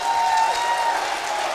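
A wrestling crowd at a live Adelaide show applauds and roars in a dense, sustained wash of clapping and cheering, loud and unbroken, with no distinct voices standing out.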